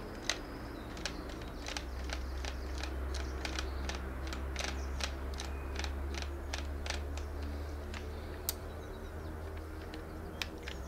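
An air rifle barrel is screwed back into an AEA HPMax 9mm carbine, giving a run of sharp, evenly spaced metallic clicks and ticks close up over a low steady hum.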